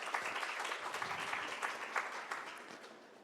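An audience at a panel session on greening food and land use applauds to welcome a speaker, with dense steady clapping throughout that fades slightly toward the end, and no voices over it.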